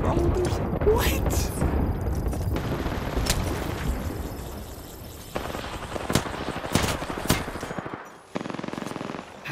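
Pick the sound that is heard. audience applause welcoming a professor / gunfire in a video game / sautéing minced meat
gunfire in a video game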